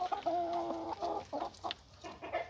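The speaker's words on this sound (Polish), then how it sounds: "No, wszystkie są, właśnie wychodzi kogucik, wybieg." Chickens and a rooster cluck in a coop run, giving close, fairly loud choppy clucks and short tonal calls in an irregular rhythm, with soft farmyard background between them.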